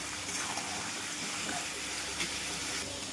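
Pointed gourd, potato and prawns stir-fry in a hot pan with a loud, steady sizzling hiss that holds constant throughout.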